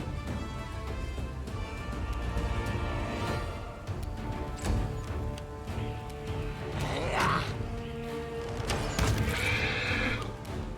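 In the video game Pathfinder: Wrath of the Righteous, a horse whinnies several times between clip-clopping hooves, set against a battle soundtrack and with faint voices now and then.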